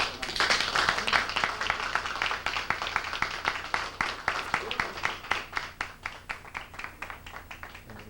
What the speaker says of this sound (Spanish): recibamos a nuestro hermano Ignacio Bárcenas con un fuerte aplauso